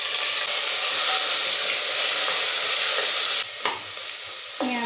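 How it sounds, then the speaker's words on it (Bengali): Chopped onions fry in hot oil with cardamom, cloves, cinnamon and bay leaves for mutton kosa, a loud steady sizzle that stays constant, with a couple of brief stirring scrapes near the end and no talking. "পেঁয়াজটা খুব ভালো করে ভেজে নেব"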